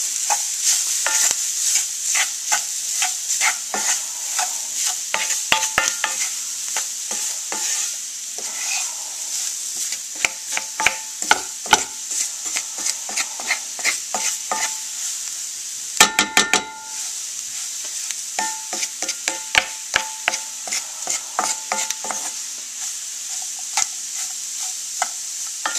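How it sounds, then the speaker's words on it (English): Cajun seasoning stirred into vegetables sizzling in a pan, a steady loud frying hiss broken by many sharp spoon-on-pan clinks and scrapes in an irregular rhythm, no talk. "I'm going to stir that in with the vegetables."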